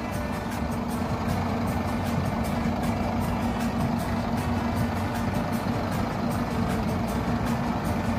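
A Scania double decker bus at a bus terminal, its engine idling with a steady, loud low drone and a faint repeating ticking over it, heard close and continuously without talk.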